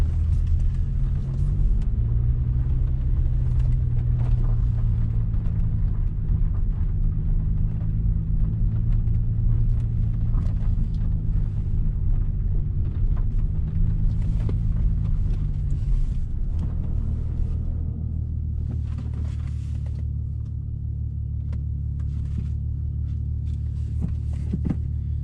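A 2000 VW GTI pulls away as its touchy clutch engages, a close, continuous engine rumble with shifting tone that drops and settles lower near the end.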